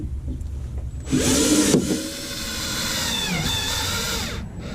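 A power drill whirs in a sustained burst, revving and winding down, then runs again steadily with a grinding tone as it drives screws into wood without pre-drilled holes.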